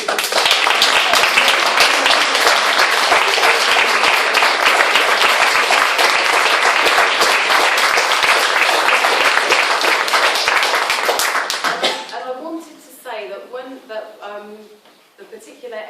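An audience at a book launch applauds loudly and steadily for about eleven seconds. The clapping then tapers off and a voice begins speaking over the last few scattered claps.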